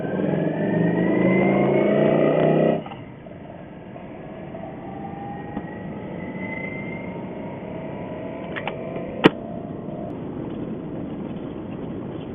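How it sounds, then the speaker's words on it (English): A motorcycle engine revs loudly and steadily up close for a few seconds, then drops to a quieter, rougher idle-like rumble with a sharp click near the end. "I'm going to get on the motorcycle."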